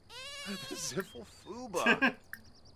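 Mini sheep bleat in The Sims 4 Horse Ranch, a few wavering cries up close, mixed with a voice talking.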